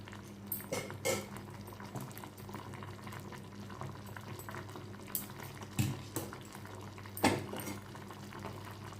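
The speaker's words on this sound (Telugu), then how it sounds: "వీటిని ఇలా తిప్పుతూ మరిగించుకోవాలి, లేదంటే అడుగంటిపోతుంది." Sago payasam made with milk bubbles faintly in a pot, a low steady simmer with a few soft spoon scrapes and knocks from stirring.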